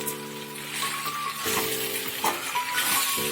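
Pasta cooked without vegetables is stirred in a sizzling pan, with a steady frying hiss and clear scraping and clinking of the spoon against the pan, close up and without talk.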